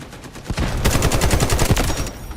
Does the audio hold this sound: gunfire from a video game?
yes